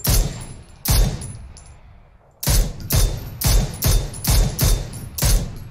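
Rapid bursts of gunfire in the battle-royale video game PUBG, with nine or so sharp, loud shots and a short pause after the first two, then a fast regular volley.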